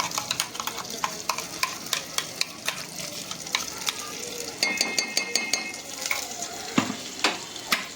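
Onion-coconut paste sautés in roasted spice masala for a Malvani prawn curry, a constant sizzle under rhythmic spoon scrapes and clinks against the pan, close and without speech.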